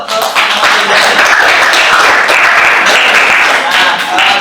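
A classroom audience at a teacher performance assessment breaks into loud, close applause that swells quickly and holds as a dense, continuous patter of clapping.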